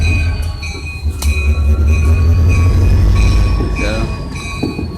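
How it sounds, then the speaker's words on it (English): A Western Maryland train being turned around, with loud rumbling wheels and clanking cars, a brief metallic squeal and steady ringing tones, close by, with faint voices underneath. "Train's about to be turned around."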